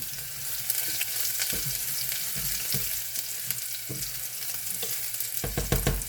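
Ground garlic paste fries in a pan, giving a steady sizzle broken by repeated scraping stirs and clacks of a spoon against the metal, close and without talk.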